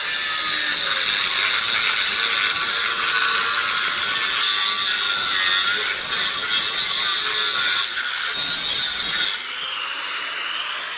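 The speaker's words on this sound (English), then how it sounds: "So I'm just going to grind one-handed for a bit." An angle grinder, held one-handed, cuts through a steel frame with a loud, continuous high-pitched whine. The sound is close, holding steady for most of the clip before dropping to a lower pitch near the end.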